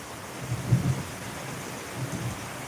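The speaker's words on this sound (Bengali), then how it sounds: "বৃষ্টির আবহাওয়া পরিস্থিতি বহুত খারাপ চলে" Rain falling during a thunderstorm in bad, flood-threatening weather, with low rumbles of thunder swelling around the first second and again near the end over a steady wash of rain.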